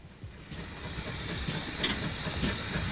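London Transport pannier steam locomotive L94 pulling away, a hiss of steam over rhythmic chuffing and rail clatter that grows louder as it departs.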